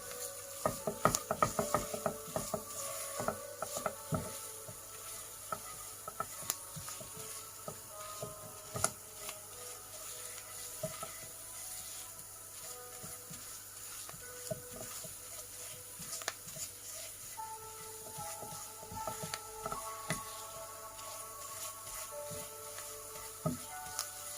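Flour roasting in a pan for a Turkish barbunya bean dish, stirred with a utensil: faint, irregular scraping and clicking strokes against the pan over a quiet background hiss, steady throughout.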